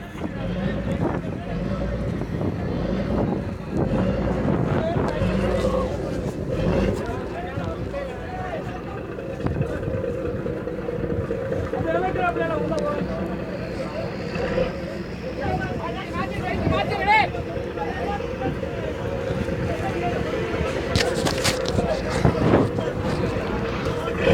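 Motorised fishing boats carry pilgrims across open sea toward Katchatheevu island, a steady engine drone with wind buffeting the microphone, while people talk throughout.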